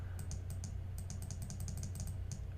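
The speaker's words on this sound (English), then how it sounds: "you can just keep on clicking like I'm doing right now" A computer mouse clicks over and over in quick bursts while unfollowing accounts, with faint, sharp, close clicks above a steady low hum.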